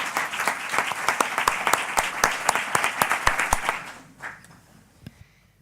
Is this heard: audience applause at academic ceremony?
yes